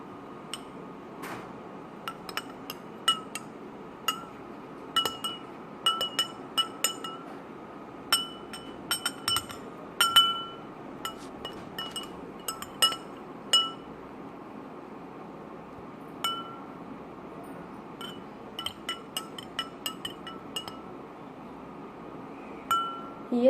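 Irregular clinks and light taps of a utensil against glass repeat throughout while stirring ordinary flour into a glass of water, with soft background noise and no speech.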